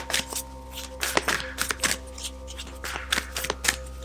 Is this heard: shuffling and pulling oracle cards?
yes